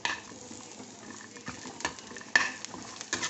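Ingredients for peanut chutney sizzle softly as they roast in a pan while a spoon stirs and scrapes, with a few sharper clinks and taps.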